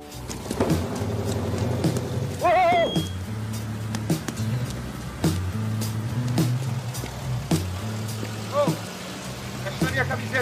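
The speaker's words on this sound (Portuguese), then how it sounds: "Pra encarar essa chuva." Steady rain hisses throughout as a continuous background wash while people talk over it in the foreground.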